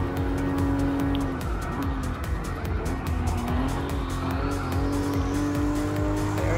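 A Toyota GR Supra RZ sports car races in Gran Turismo Sport, its engine droning loud and steady while the tires squeal continuously through a corner.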